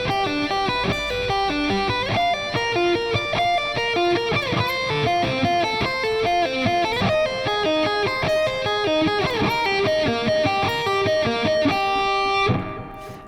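Electric guitar sweep picking arpeggios shift through several keys, fast cascading notes played continuously at steady loudness before cutting off near the end.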